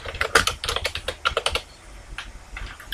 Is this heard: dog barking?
no